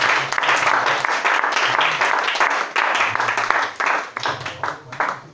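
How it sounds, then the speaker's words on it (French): A church congregation applauding during a French-language worship service, dense sustained clapping throughout with a few faint voices underneath, thinning into scattered claps near the end. "On acclame le Seigneur Jésus."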